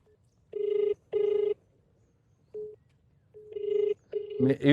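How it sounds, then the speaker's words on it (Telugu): Repeated electronic ringing tones in short bursts with pauses between them from a phone ringing on an outgoing call, and then a voice starts speaking. "ఇమ్రాన్కి ఫోన్ చేస్తున్నా, మేబీ ఎత్తాడో."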